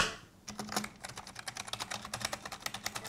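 Rapid typing on a cheap low-profile gaming keyboard, a dense run of light clicky keystrokes starting after a brief pause and continuing steadily, close and alone.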